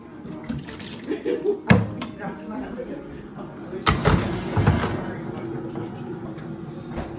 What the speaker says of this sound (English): the second is to empty this pot, which only has water in, so that you have room for a full pot of coffee